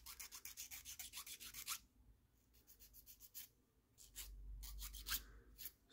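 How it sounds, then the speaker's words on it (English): Close, quiet sanding of small plastic parts from a Bandai 1/48 StuG.III model kit, in bursts of quick back-and-forth scratchy strokes separated by short pauses. "Let's give them a little bit of a sand."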